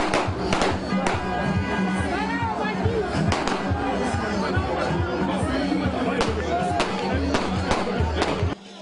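Sharp gunshots go off repeatedly through an agitated, shouting crowd amid thrown stones, the reports irregular and fairly close amid constant noisy chatter.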